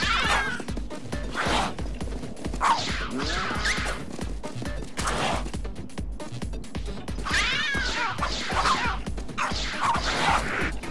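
Cartoonish cat meows from a fat cat in the video game Tokyo Jungle, several short yowls among clashing game sounds and music.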